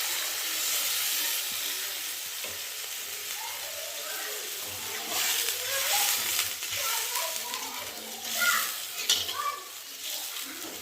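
Pieces of fish go one at a time into spice paste frying in oil, with sizzling and stirring that swell in bursts, close and fairly loud, while a voice talks faintly beneath.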